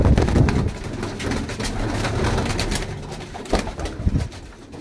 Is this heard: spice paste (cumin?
no